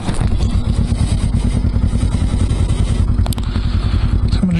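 An old Honda CB350 motorcycle engine runs with a steady, rapid putter and loud low pulsing throughout, close up, with a brief clatter near the end.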